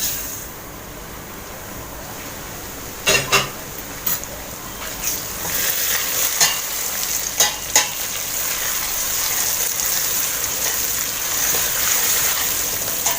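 Vermicelli for koshari frying in leftover oil, with a loud continuous hiss and sizzle that swells as it goes, broken early by a few sharp clinks and scrapes of stirring.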